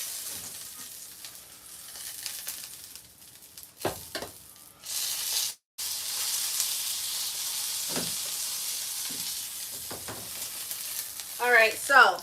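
A tomahawk steak sears in a scorching hot frying pan, giving a steady close sizzle and hiss throughout, broken by a few short clanks and a brief near-silent gap.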